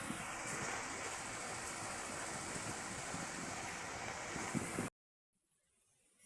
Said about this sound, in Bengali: প্রচণ্ড পরিমাণে বাতাস।